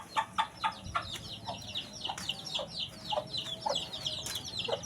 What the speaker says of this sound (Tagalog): Kinakain siya ng manok.